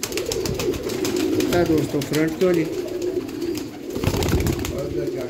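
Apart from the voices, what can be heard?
pigeons cooing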